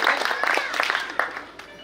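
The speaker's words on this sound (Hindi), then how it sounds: "एक बार जोरदार तालियों से हमारी मातृशक्ति का समर्थन कीजिए" Brief burst of audience applause for the women present at a poetry gathering, many hands clapping at moderate level with a faint voice woven through, thinning out toward the end.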